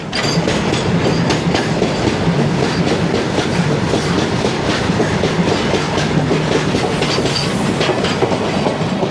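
A freight train of loaded box wagons heavy with a coal-like cargo rolls steadily past, its loud, continuous rumble laced with rhythmic wheel clatter over rail joints throughout, with no voices.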